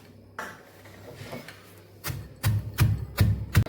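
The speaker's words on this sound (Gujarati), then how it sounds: "ગાંઠિયાનો પણ ખાંડણીમાં આપણે ભૂકો કરી લેશું." Gathiya, a crunchy fried gram-flour snack, crushed in a kitchen mortar: a few scattered taps, then a run of four or five rhythmic, solid pounding thuds close by, with no voices.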